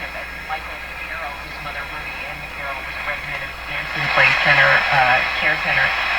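A Bakelite Baby Champ NE 5000 valve radio is tuned to a station and plays a voice broadcast with a steady hum underneath, growing louder toward the end.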